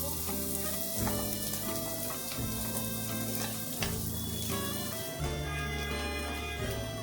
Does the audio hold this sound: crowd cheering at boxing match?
no